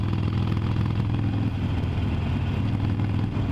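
A Harley-Davidson 883 Iron motorcycle engine rumbles steadily at close range, a deep, continuous idle with slight throttle variation throughout.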